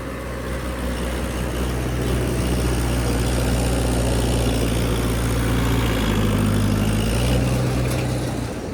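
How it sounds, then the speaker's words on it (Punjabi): A tractor engine working hard pulling soil on a farm, a loud steady low diesel drone with a slight shift in pitch partway through, close and continuous, with no talking. "ਜ਼ੋਰ ਪੂਰਾ ਮਾਰਦਾ ਟਰੈਕਟਰ ਵੀ ਜ਼ੋਰ ਦੀ ਕੋਈ ਘਾਟ ਨਹੀਂ ਹੈ"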